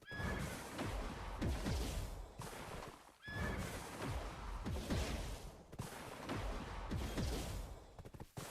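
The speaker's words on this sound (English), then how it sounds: "This horse is not fit for the game. It's too fast." A horse in the Black Desert video game whinnies loudly twice, each call followed by quick galloping hoofbeats and rushing movement, with no talking.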